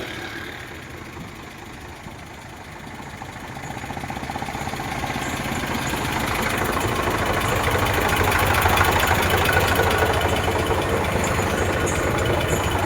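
An Eicher 368 tractor engine idles steadily with a rough, throbbing chug, growing louder and fuller partway through and holding there without voices.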